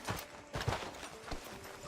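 Horse hooves clip-clop outside a sheriff's office in Red Dead Redemption 2, a few distinct hoof strikes landing fairly close over a low background bed, with no one talking.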